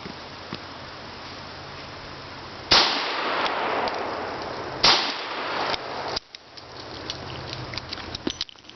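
Two sharp, loud gunshots from a Smith & Wesson Model 10 revolver crack a couple of seconds apart, each followed by a decaying echo, then a quieter third report and some light clicks.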